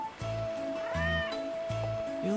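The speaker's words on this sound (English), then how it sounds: "Yo, it's your cat." Meows from a cat in Final Fantasy 7 Remake sound clearly two or three times against a steady low background hum and a faint sustained tone.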